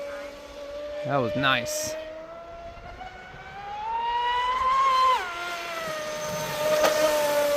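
A Hydra X8s RC boat with a TP Power motor and Castle ESC screams at full throttle, its high motor whine rising in pitch and then dropping as it passes, with someone speaking briefly over it.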